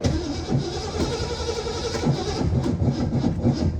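An abandoned 1970 V8 Mustang engine cranks and churns steadily, a loud, dense mechanical rumble running for a few seconds without any voices.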